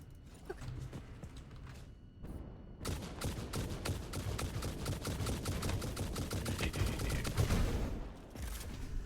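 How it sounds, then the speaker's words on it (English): Dense, continuous crackling bursts of fireworks in the video game Satisfactory, starting after a brief quiet gap and rolling on loudly with overlapping pops and booms, no speech over them. "I'm gonna send up a little bit more fireworks"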